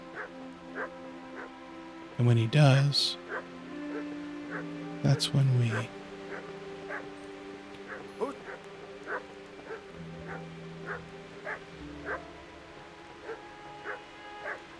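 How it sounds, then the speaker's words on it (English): Dogs barking in the medieval video game Kingdom Come Deliverance, with two loud bursts of barking and fainter yips scattered through, heard under someone talking. "to see what his dogs are barking at"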